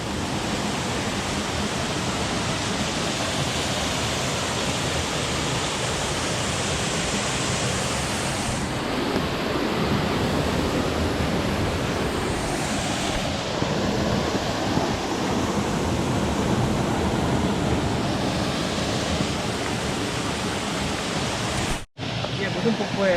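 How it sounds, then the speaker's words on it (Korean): A three-tiered waterfall in Chilseon Valley on the route up to Cheonwangbong, a dense, constant roaring rush of falling water filling the whole stretch without letup. "삼층폭포라는데요?"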